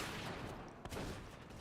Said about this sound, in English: Shotguns going off.